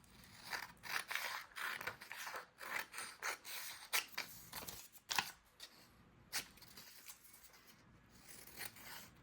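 Scissors cut a paper strip for a crafted journal pocket, giving close, crisp snipping and rasping strokes in uneven bursts with brief gaps between them. The cutting is heard alone, with no talk.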